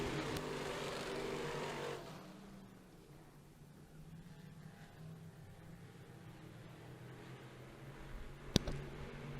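Race cars in a heat race at Humberstone Speedway, engines droning and roaring as the field circles the track, a louder passing surge at the start, then a steady distant hum and a sharp crack near the end.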